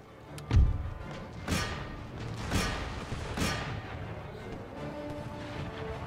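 Cannons firing on a battlefield in the strategy game Empire: Total War, four deep booming shots spaced about a second apart, the first loudest and closest, over a low rumbling background.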